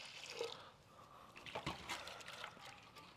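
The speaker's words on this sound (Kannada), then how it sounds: "ಈಗ ಕಮ್ಮಿ ಪ್ರಮಾಣ ಮಾಡಿದಾಗ ತಿರ್ಗಾ ಅದಕ್ಕೊಂದ್ ಸ್ವಲ್ಪ ನೀರು ಹಾಕೊಂಡು" A small amount of water is poured over a batch in a home kitchen while making champakali sweets, a soft trickling and splashing that stays faint and steady, with a brief louder splash midway.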